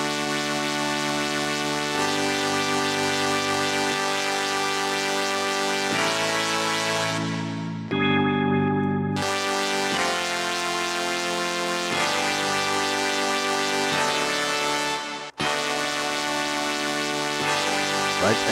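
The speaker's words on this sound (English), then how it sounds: "There's synth sounds." Sustained synthesizer tones hold steady chords, changing every few seconds, with a short break in the middle and a sharp click near the end.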